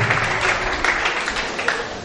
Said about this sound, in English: let us give ourselves a round of applause once again